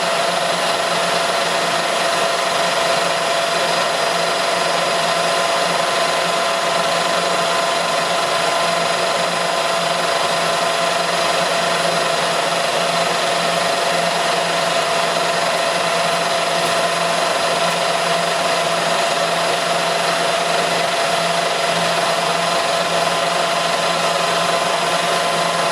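A lathe drilling into a locomotive axle with a drill held in the tailstock, a continuous steady machine hum with a sustained whining tone, constant and unbroken for the whole stretch.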